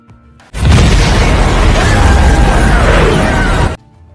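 A loud Minecraft explosion blowing up a tower booms and rumbles for about three seconds with a crackling, roaring burst, then cuts off abruptly.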